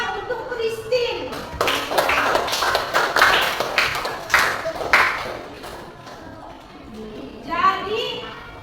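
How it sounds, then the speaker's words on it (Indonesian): Children in a primary school classroom clap in bursts of applause, sharp and close, mixed with young voices and a brief burst of speech near the end. "Tepuk tangan untuk Christine."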